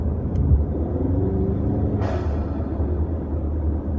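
Blow-off valve on a turbocharged EcoBoost Mustang lets out a brief, sharp whoosh of venting air midway over a constant low idle rumble from the nearby engine.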